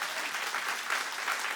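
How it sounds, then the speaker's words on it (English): Steady applause from an audience clapping together, dense and even, at a moderate distance with no voices. "I'm glad we got a cathartic clap in"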